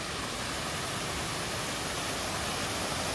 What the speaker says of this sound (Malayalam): ഇതൊരു ചെറിയ വെള്ളച്ചാട്ടമാണ്.